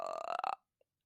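A man lets out a single long, loud burp that trails off abruptly into silence, with a faint tiny blip afterward.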